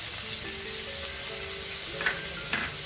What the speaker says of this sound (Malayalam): ഇഞ്ചിയും വെള്ളുള്ളിയും ഇത് നല്ലപോലെ ചുമന്ന കളറാവണ വരെ ഫ്രൈ ചെയ്യാം.